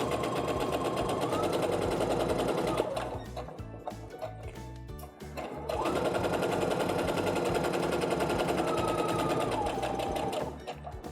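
A sewing machine stitches a quilt block seam with a fast, steady mechanical whir and needle chatter, pausing briefly near the middle before resuming just as loud and close.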